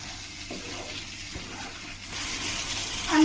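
Water poured into the fried masala for a rohu fish curry: a soft, close hiss that swells into a steadier, louder gushing stream toward the end, with no voices.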